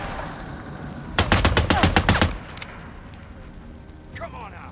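A sniper fight in Days Gone brings a rapid, loud burst of about ten close gunshots lasting roughly a second, then quieter game ambience with faint voices.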